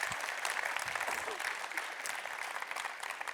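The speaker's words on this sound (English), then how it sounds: "Usually I get applause at that point." Steady applause from a conference talk audience fills the whole stretch, a dense patter of clapping at an even level with no voices standing out.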